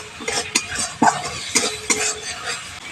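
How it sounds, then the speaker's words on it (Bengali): Spice masala for a vegetarian potato dum being stir-fried in a pan, with rhythmic scraping strokes of a spatula against the metal over a soft continuous sizzle. "মশলাটা খুব ভালো করে কষিয়ে নিচ্ছি যতক্ষণ না মশলা থেকে তেল ছাড়ছে"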